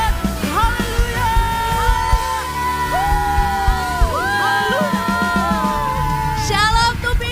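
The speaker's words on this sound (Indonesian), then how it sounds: "Mari kita berikan tepuk tangan yang meriah buat Tuhan kita" Church congregation at a Sunday worship service cheering and whooping with shouts and a crowd roar, a continuous loud wash of voices with scattered high yells throughout.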